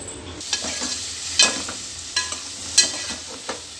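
Oil and a small piece of butter sizzle steadily in a kadai for restaurant-style paneer tikka masala, a close, continuous hiss with a few brief sharper crackles and clatters over it and no talking.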